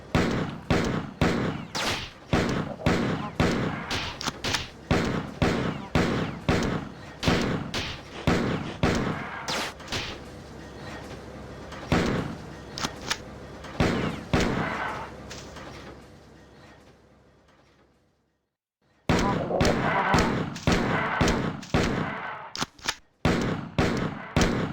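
A pistol fires in Marathon 2, in loud, sharp shots that repeat at a steady pace, a long tail trailing off into a brief silence, then another rapid volley of shots.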